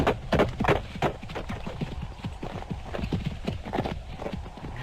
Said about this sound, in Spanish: cabalgué por una corta calzada que me condujo a la casa